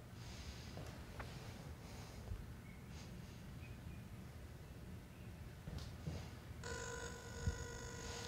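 Camera gimbal motors on a CAME TV 7800 strain under excess weight, giving a faint steady vibrating hum with a high electronic whine near the end.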